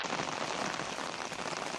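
Steady rain falls across Pudukkottai district in Tamil Nadu, a dense, even hiss of drops pattering on surfaces, continuous and fairly close with no voices.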